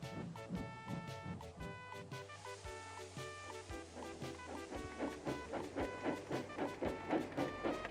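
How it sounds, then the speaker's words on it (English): A steam train pulling away, rhythmic chuffing and hissing that steadily quickens and grows louder, with metallic clanks through the run. "after a couple of seconds the train started moving"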